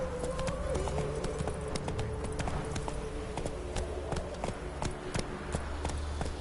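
Horse hooves clip-clop at a walking pace in a PS4 video game, a steady run of close taps over a low rumbling game background.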